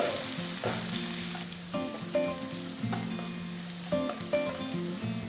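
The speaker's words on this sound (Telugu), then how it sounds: "ఉల్లిపాయలు బాగా సాటే చేయాలి కొంచెం మగ్గాలి" Chopped onions and slit green chillies sautéing in a pan for a brinjal and black-eyed pea curry, a steady close sizzle with repeated scraping and clinking of a spoon stirring, no voices.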